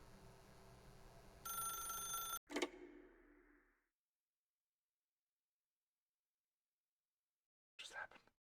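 A telephone rings in The Stanley Parable video game, a bright repeating bell burst followed by a short jolt and quiet, then another brief ring near the end; a voice speaks early on.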